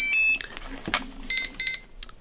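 An RC servo and ESC powering up give short electronic startup tones, two clear beeps near the start and two more later, with a click and light handling noises between them in a quiet room.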